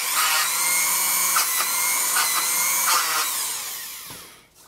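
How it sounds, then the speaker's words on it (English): A high, whining beveler tool buzz grinds steadily for about four seconds while smoothing the edge of a drilled hole, pausing briefly a few times, then winds down and stops. "make sure you hit it with a beveler"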